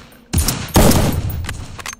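Loud, close bursts of rapid automatic gunfire in a VR shooter game, two dense volleys crackling over about two seconds with brief gaps between them.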